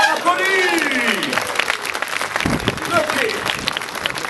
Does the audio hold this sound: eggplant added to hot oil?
no